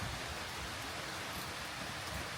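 Typhoon rainfall pours down as a soft, steady hiss of dense rain, faint and even throughout with no voices or gusts.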